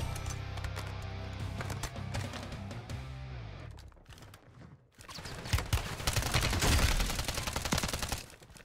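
Gunfire in the shooter Warzone 3, with a KAR98K rifle loadout, crackles in rapid bursts over dense game music and effects, loud and continuous and then sharper and louder after a brief lull.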